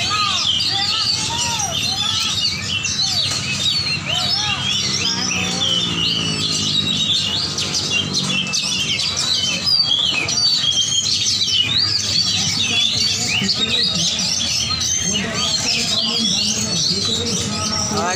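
Oriental magpie-robins (kacer) singing at a songbird contest, a dense, continuous chorus of loud chirps, whistles and trills from several birds close by, with crowd noise and chatter underneath.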